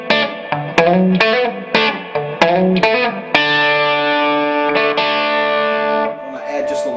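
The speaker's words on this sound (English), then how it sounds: "if I want to back off on that distortion" Electric guitar played through a distortion effect pedal, the overdriven tone growing fuzzier and then easing back, with strummed chords and a long ringing sustained note, loud and up close.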